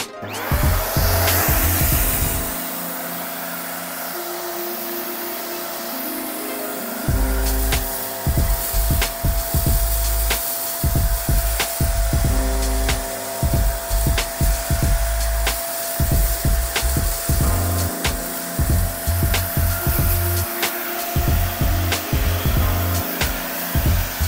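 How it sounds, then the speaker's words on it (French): A Conga ThunderBrush 560 vacuum cleaner in handheld mode runs on furniture, giving a loud steady motor whine with repeated surges and dips as the nozzle is pushed and lifted, plus clattering bumps, with no talking. "On va pouvoir le tester en mode aspirateur à main maintenant."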